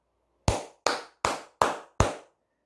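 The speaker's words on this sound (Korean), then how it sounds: "우리 모두 한 주간 수고하셨다는 의미에서 박수 한번 치고 가겠습니다" Five sharp hand claps at an even, unhurried pace, close and clear against silence.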